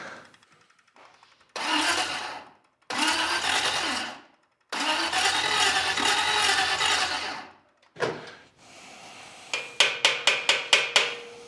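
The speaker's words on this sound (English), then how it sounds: "It's the sound of fuel pressure." Loud mechanical bursts of a few seconds each with short gaps, ending in a quick series of sharp rhythmic pulses, as fuel pressure builds in a 1954 Packard's fuel system up close.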